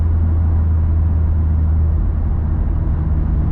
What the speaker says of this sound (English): I was expecting a bit of wheel spin then in 3rd when that boost kicked in, but just put it down